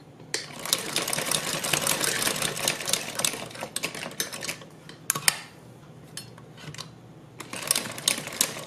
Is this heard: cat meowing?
no